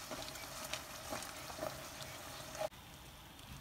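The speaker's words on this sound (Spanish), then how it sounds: "los vamos a voltear y los vamos a estar picando así con el tenedor para que se cocine muy bien este buñuelo" Mexican Christmas buñuelos fry in hot oil, a soft steady sizzle with faint scraping as they are flipped and poked with a fork, ending in a sudden cutoff.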